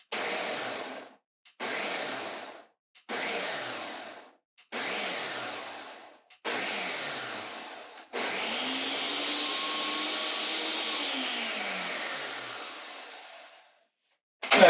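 Food processor pulsing a vegan meatball mixture: five short whirring bursts with brief silences between, then one longer continuous run that winds down near the end.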